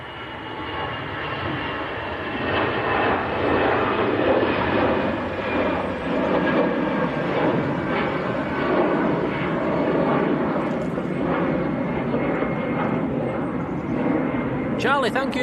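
An EasyJet Airbus A320 departs Manchester Airport for Paris Charles de Gaulle with a sustained, loud jet roar and whining engine tones holding steady throughout. Voices murmur faintly underneath.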